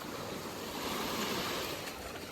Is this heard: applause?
no